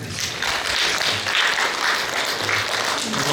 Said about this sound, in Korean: 박수를 한번 크게 한번 쳐보겠습니다